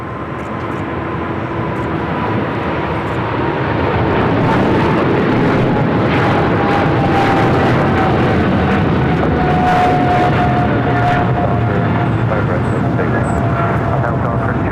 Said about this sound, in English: Cathay Pacific's 777-300ER is now rolling on 25 right.